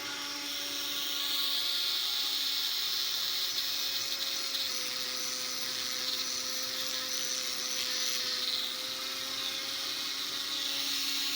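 A rotary tool whines steadily as it sands engravings out of a Tiffany & Co. beaded edge silver ring, a close, continuous high-pitched buzz with slight shifts in pitch as pressure changes.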